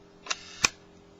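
A Nikon S rangefinder camera fires its shutter at half a second, giving two crisp close clicks about a third of a second apart, opening then closing, in a quiet room.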